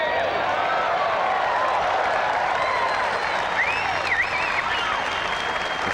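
Golf gallery at THE PLAYERS Championship 2001 applauding Tiger Woods's winning shot: dense, sustained clapping from a large crowd, steady and loud throughout, with scattered cheers and whistles rising near the middle.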